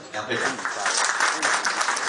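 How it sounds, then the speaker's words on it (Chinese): An audience at a Guangzhou mantis-boxing centenary event claps steadily in a dense burst, while a speaker's voice sounds over the applause. "我们给点掌声"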